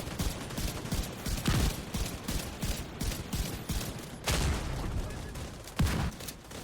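Rapid bursts of gunfire and rocket blasts aimed at the boss Morozova during the Iron Horse raid in a video game, loud and dense with repeated heavy impacts, with some talk underneath.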